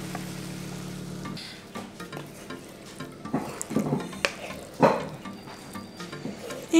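Fish stuffing with fresh parsley being stirred in a pan and taken off the heat: scraping stir strokes and a soft sizzle, with irregular clatters building toward the end, close and moderately loud.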